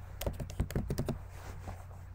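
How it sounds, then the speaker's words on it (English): Fingers type on a Mac computer keyboard in a quick burst of close, light key clicks that slows to a few scattered taps over a low hum. "I'm typing in here."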